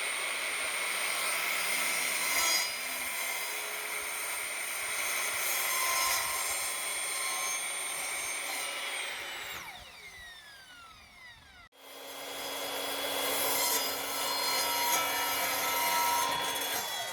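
Wood is sawn to make a motorhome cupboard door, a steady rasping cut running for about ten seconds before the blade slows and stops, then a short pause and another stretch of cutting.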